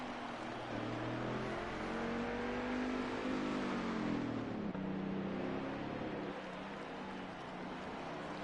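A race car engine in a racing video game drones steadily at high revs, its pitch rising and falling slightly as the car laps the Ruthless Roval, loud and continuous.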